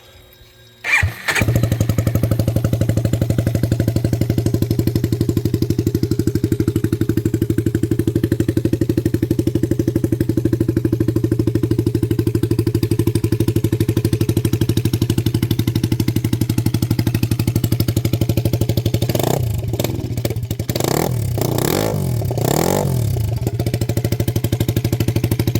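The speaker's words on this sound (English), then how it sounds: "So I have a feeling this is going to fire right up now." A CFMOTO 300SS motorcycle engine with a newly replaced battery cranks briefly, fires up and settles into a steady, loud, close idle with a few quick throttle blips near the end.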